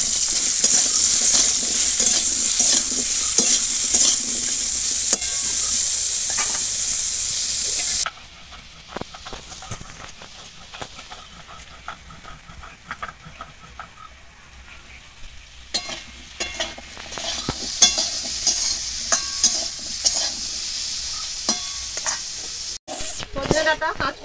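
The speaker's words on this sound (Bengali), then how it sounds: "সজনে ডাঁটা, কাঁচকলা ভাজা হয়ে গেছে" Drumsticks and raw banana pieces fry together in a pan, opening with a loud, dense sizzle that drops abruptly to quieter crackling with scattered stirring scrapes and clinks.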